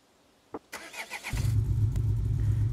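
A Ford Bronco with an inline six cranks over with a few quick starter chugs, catches, and settles into a loud, steady, rumbling idle close by.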